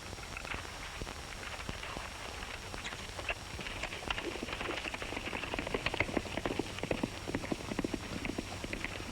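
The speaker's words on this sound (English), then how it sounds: "Say, Stony, how about using your horse? He's faster than mine." Horse hooves in a 1937 Western, a quick run of irregular clip-clop beats building steadily over a low rumbling background with no talk.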